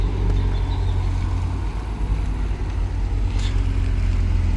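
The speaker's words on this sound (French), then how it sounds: "il y a toutes les voitures qui vont passer" Cars passing at a Rotary car meet, a continuous low engine rumble and road noise from vehicles driving by at moderate distance.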